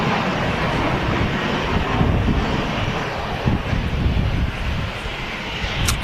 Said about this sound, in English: Just taxiing past is the EasyJet service from Faro, just an A320 with them Airbus Sharklets